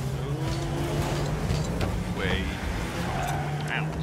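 A rocket-powered car in Rocket League roars and skids across the arena, its engine hum steady with brief squeals and boost whooshes. Players chatter underneath.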